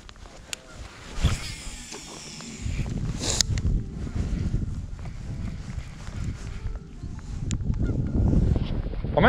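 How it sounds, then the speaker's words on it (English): Geese honk repeatedly in the distance over steady outdoor noise and rushing water, with a few brief sharp sounds near the start. "the geese did not shut up the entire time we were out there"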